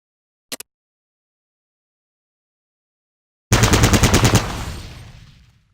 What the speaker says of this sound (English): Target the dummy, and left-click to fire at it.